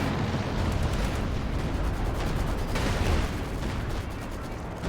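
Volley of Firefly 17-pounder tank guns in Company of Heroes 2, heavy continuous booming and blasts filling the whole stretch, dense and loud with layered battle rumble and no talk.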